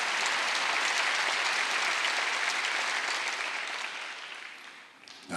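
A church congregation at a Wednesday service breaks into sustained, dense applause that holds steady, then thins and fades toward the end.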